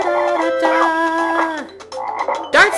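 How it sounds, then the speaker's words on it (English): Dart-spitting frogs croaking in The Lion King video game: a loud, close series of warbling, tonal croaks that rise and fall, followed by a sharper swooping call near the end. "Dart-spitting frogs, see?"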